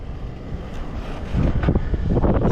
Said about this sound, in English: Wind's blowing quite a bit.